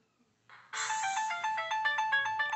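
A BlackBerry Curve 8530 ringtone plays loud and close, a bright repeating melodic pattern of pulsing tones that continues steadily to the end.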